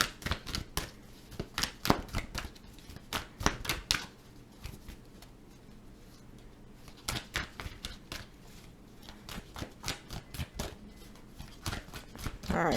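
Tarot cards are shuffled repeatedly up close, sharp riffling bursts and flicks in uneven clusters with short pauses between, loud and crisp against a quiet room.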